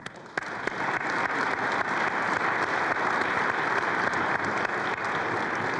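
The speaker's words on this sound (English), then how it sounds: "So Let's give him a round of applause." A lunch-panel audience at a health policy event in Alaska breaks into a sustained round of applause, dense and steady for several seconds after a brief quieter start.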